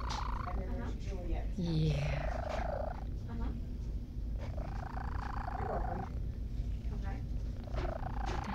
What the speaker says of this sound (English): It's a very distinctive purr.